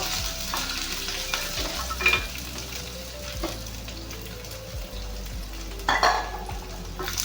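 Dried red chillies and garlic frying in a pan, producing a steady close sizzle punctuated by occasional stirring scrapes and a few louder clinks, with no talk over it.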